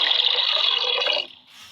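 Water poured into a homemade solid bar soap mixture, a steady close splashing pour lasting just over a second before cutting off into quiet.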